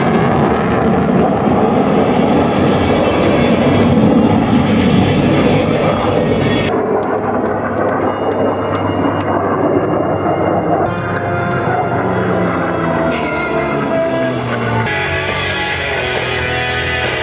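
F-22 Raptor jet flying at the Reno air show, a loud continuous roar that shifts in tone as it passes, with an announcer's voice over it.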